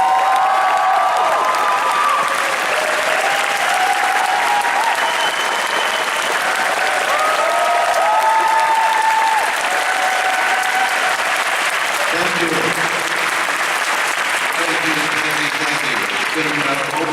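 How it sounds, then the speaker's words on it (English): A large Comic Con crowd in London applauds Edward James Olmos onto the stage, sustained dense clapping with cheers and whoops rising through it for the whole stretch. "Give him a big round of applause"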